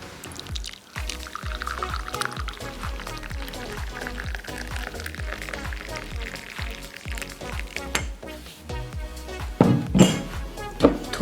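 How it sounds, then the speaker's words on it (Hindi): Kashmiri pink tea (gulabi chai) poured into a cup, a steady liquid stream with faint clinks of crockery; a rhythmic low thumping runs underneath throughout, and a brief clatter comes near the end. "अब इसमें पिंक चाय डालेंगे।"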